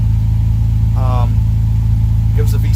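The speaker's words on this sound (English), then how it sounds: "Gives the V6 a deeper tone," A Toyota Tacoma V6 fitted with a straight-through Magnaflow muffler and no tailpipe idles with a deep, steady, loud drone close by, while a person briefly speaks over it.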